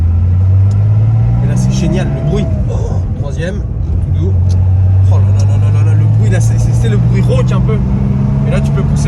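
Porsche 911 with a 2.7-litre engine pulls in third gear, its steady low drone and rumble running throughout, with a person talking over it.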